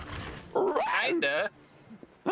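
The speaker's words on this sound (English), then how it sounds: "Okay, no, it's a dog." Dog in the video game Resident Evil 0 letting out a couple of yelping barks and whimpers, close and loud, with a person talking in between the cries.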